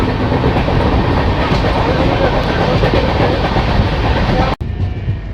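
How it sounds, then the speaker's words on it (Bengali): The Kolkata–Guwahati Garib Rath, hauled by a WDP4D locomotive, rumbles slowly across the Naranarayan bridge over the Brahmaputra in monsoon rain, a loud, steady clatter of wheels heard from on board, cutting off sharply near the end. "আমাদের ট্রেন এবার নরনারায়ণ ব্রিজ ক্রস করে ব্রহ্মপুত্রের ওপারে যাবে"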